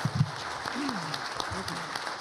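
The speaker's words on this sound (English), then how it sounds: "Let's give a round of applause to our speakers." Short, fairly faint audience applause at a history symposium rings out for the speakers, with a voice talking over it.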